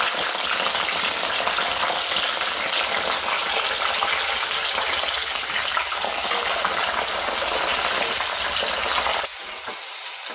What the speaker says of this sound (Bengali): এর থেকে বিনসগুলোকেও তেলে দিয়ে দিলাম। ওইগুলোকেও ভাজবো এমনভাবে যাতে বেশি লাল না হয়।